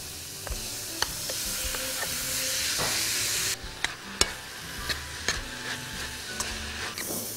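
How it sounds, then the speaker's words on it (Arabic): Minced meat sizzles and fries in a pan for macaroni tagine, a steady close hiss broken by sharp stirring scrapes and clinks of a spoon, with no talking. "وبعدين انزل اللحمه المفرومه"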